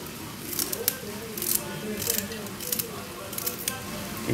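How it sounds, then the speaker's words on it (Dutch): Repeated crisp cutting strokes as Surinamese soup greens are chopped finely on a board in quick irregular bursts, with a low background rumble of kitchen activity. "Ga ik hem fijn snijden."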